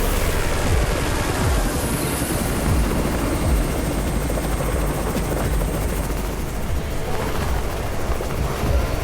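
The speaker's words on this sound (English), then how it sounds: "It's the Raven's chopper! We have backup!" A helicopter arrives in a zombie survival video game, its loud, steady rotor chop filling the scene continuously and close, with no talking over it.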